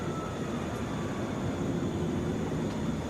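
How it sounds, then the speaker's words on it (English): A Delta Airbus A320 airliner at Atlanta International Airport produces a steady, broad engine roar with a faint high whine. The sound is continuous and moderately loud, with no voices. "This is Delta 2465 headed to Albany, Airbus A320"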